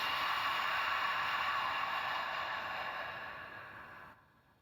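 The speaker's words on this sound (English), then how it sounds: "bringing our breath to an HA sound on the exhale" A single long, breathy Ujjayi exhale voiced as a soft "HA" in a yoga class, close and steady, gently tapering off over a few seconds to near silence.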